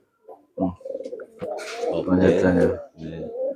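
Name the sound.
racing pigeon cooing while being handled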